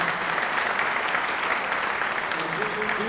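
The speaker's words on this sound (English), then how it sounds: "how about a round of applause?" An indoor audience at a Napa Valley community town hall breaks into steady, dense applause, many hands clapping continuously throughout.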